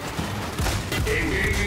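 Gunfire in the Gears 5 campaign, a dense burst of overlapping shots and booms rattling through a street fight, with a voice talking over the battle.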